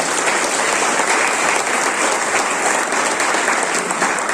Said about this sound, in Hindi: उनको जितने डायमंड है उनके लिए जोरदार ताली होना चाहिए।